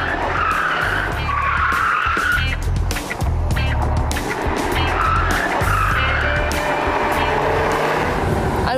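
Tires of a BMW M6 Convertible squeal loudly through an evasive maneuver test at normal driving speed, two long rising-and-falling screeches over the steady engine drone, close and continuous.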